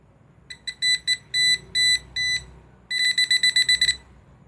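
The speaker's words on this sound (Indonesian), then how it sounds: "meskipun lampunya tidak hidup, tetapi test pen ini berbunyi" A non-contact voltage tester pen held near a dead lamp fitting beeps in loud, high, close bursts, first in uneven groups, then in a rapid string of short beeps.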